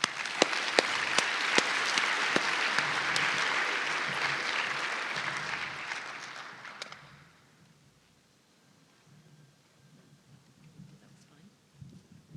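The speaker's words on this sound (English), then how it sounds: "So can we please give our speakers a round of applause?" A conference audience applauds its speakers with a dense, sustained round of clapping that holds steady for several seconds, then fades out, leaving a quiet room with faint murmurs.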